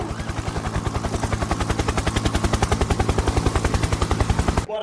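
A helicopter arrives at a sports training ground, its rotor thumping in a fast, even, close beat that stays loud and steady, with the engine whine beneath.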